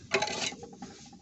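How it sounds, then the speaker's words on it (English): Lid set onto a lab container holding zinc for a thermochemistry experiment: a brief, close clatter of contact followed by a few light taps as it settles. "We'll put on the lid."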